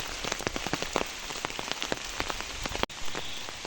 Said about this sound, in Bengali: আমাদের আসামনি এরকম বৃষ্টি এবং ঝড়ের মধ্যে খড়ি কুড়াইতে আসে